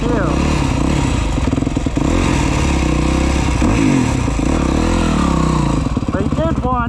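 A 2011 Yamaha YZ250 dirt bike engine idles and revs steadily at close range, loud and continuous with a rough, clattering two-stroke pulse.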